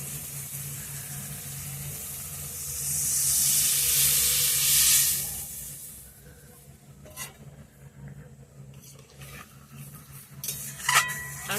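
Coconut milk poured into a snakehead fish curry with potato and cauliflower in a village-style kitchen, giving a loud rising hiss and sizzle that swells for a couple of seconds, then fades into quieter bubbling and faint clinks of a pot.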